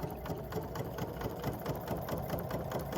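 An 880 plus sewing machine stitches a quarter inch seam along a quilt block edge with a 57 foot, producing a fast, steady mechanical whirring and rapid needle ticking, quiet and continuous without talk.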